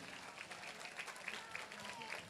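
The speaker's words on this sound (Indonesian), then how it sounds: "Bolehlah kita beri apresiasi yang paling meriah dengan tepuk tangan untuk kita semua" An audience at a governor's and minister's visit applauds in a soft, continuous patter of many hands, fairly distant and even throughout.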